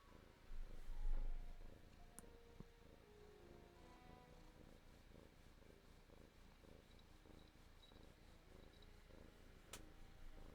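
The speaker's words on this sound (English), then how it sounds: "She's purring so loud." A cat purring very close in a quiet room, a faint steady rumbling drone continuing throughout with a few small clicks and rustles.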